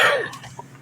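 A single sharp cough bursts out loud and close at the start, then trails off into quiet room noise with a faint throat sound.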